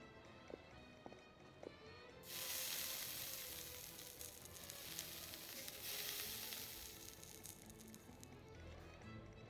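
Mushrooms sizzling as they cook in Genshin Impact, a few light taps followed by a sudden bright hiss of frying that holds steady and loud for several seconds before easing off.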